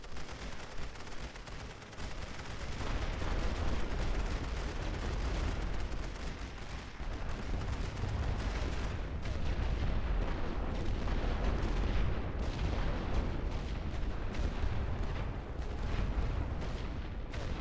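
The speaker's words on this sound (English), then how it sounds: "It's light artillery, don't worry about it." Light artillery fire in The Great War: Western Front rumbles on continuously, a dense wash of low booms and crackling gunfire over a steady battlefield roar, with no single blast standing out.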